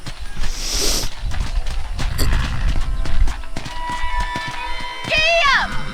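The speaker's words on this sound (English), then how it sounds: "let's see if you can still ride a horse." In Red Dead Redemption, a horse's hooves clop along in an uneven rhythm over other game sounds, with a brief high whinny-like cry near the end.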